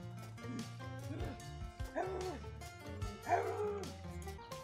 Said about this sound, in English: Dogs attacking my bestie in the background.